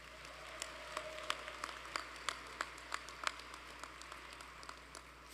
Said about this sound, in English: Let's give a round of applause to our university medalists.